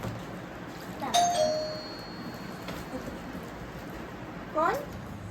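Household doorbell chiming twice, a bright ding near the start and a second shorter chime a few seconds later, clear over quiet room tone.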